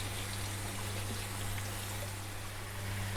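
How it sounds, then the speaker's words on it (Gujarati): Water pours into a hot tempering for patra (colocasia leaf rolls), a steady trickling stream heard over a constant low stove hum, fairly quiet and continuous throughout. "વઘારમાં આ રીતે પાણી એડ કરીશું તો પાત્રા ખાવામાં ડ્રાય નહીં લાગે."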